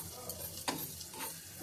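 Dal lentils fry in a pan while being stirred, a soft continuous sizzle broken by a few scraping strokes of the spoon, quiet and close.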